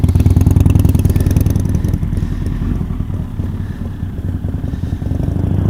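A motorcycle riding along a city street at night, its engine droning steadily and loudly throughout with a rumbling, slightly clattering tone, close to the microphone and without talk.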